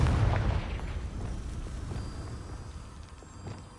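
A Confringo blasting spell explodes in the game Hogwarts Legacy: a heavy booming burst at the start fades into a low, rumbling decay that trails off over a few seconds.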